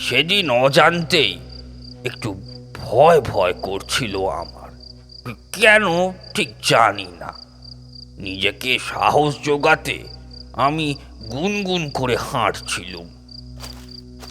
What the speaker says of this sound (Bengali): ঝিঝি পোকার একটানা ডাকের মধ্যে শুধু শোনা যাচ্ছিল